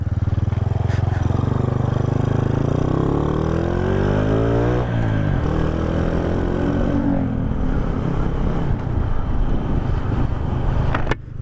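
A newly built motorcycle's engine drones steadily while riding, its pitch rising and dipping through a gear change amid road and wind rumble, loud and close, continuous throughout.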